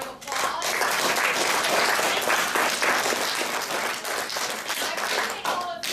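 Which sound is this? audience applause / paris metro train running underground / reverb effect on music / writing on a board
audience applause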